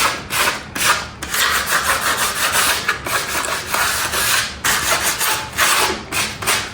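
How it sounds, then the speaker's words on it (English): Sandpaper rubbed by hand over the rough wood of a pallet to take off splinters: close, loud, rhythmic rasping strokes repeating steadily, with no talking. "you just take a piece of sandpaper and you just want to smooth that off"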